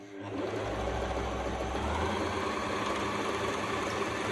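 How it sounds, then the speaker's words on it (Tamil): Usha Janome Stitch Magic sewing machine stitching cloth, a fast steady mechanical whirring chatter that starts after a brief pause and runs continuously, close and clear. "ஏதாவது கிளாத்தில் தைக்கணும்"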